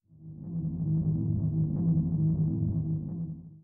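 A spike ceiling effect from a horror puzzle video game: a low, steady rumbling drone that swells in, holds for a few seconds and fades out, alone and fairly loud.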